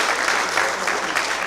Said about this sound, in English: maybe you need to give him a big round of applause